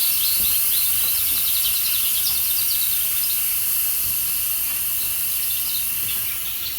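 Instant Pot pressure cooker releasing steam after a natural pressure release while cooking carnitas, a steady, loud, continuous hiss with no break throughout.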